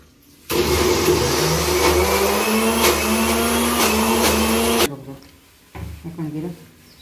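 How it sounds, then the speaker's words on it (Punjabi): A mixer grinder whirs loud and steady as it grinds soaked lentils, a sustained motor roar lasting several seconds before cutting off abruptly, followed by a voice speaking nearby. "ਇਹ ਜੀ ਮੈਂ ਗ੍ਰਾਈਂਡ ਕਰ ਲਈ ਆ ਦਾਲ"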